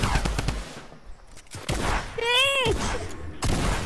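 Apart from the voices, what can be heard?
gunshots from the video game Fortnite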